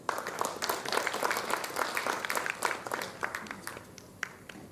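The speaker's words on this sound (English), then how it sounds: "Can we have another round of applause for them?" A festival audience gives a round of applause after a cultural presentation, steady dense clapping from a full hall that holds for several seconds and then thins toward the end, fairly soft and distant.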